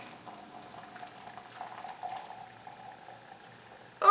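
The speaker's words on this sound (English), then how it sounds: "we see a significant amount of fizzing in the warm" Coca-Cola fizzes as it is poured into a warm beaker, giving a soft crackling effervescence with bubbly surges and a sharper burst of pouring at the end.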